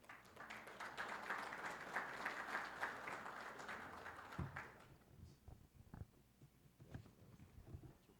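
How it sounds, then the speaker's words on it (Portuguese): Audience applause at a corporate symposium talk welcoming a company vice-president, moderate clapping that builds and holds for about five seconds, then breaks off into scattered isolated claps and small room noises. "pedir uma salva de palmas na sequência ao senhor vice-presidente de Operações e Inovação na Dataprom"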